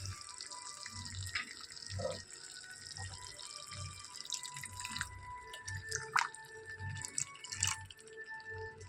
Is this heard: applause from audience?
no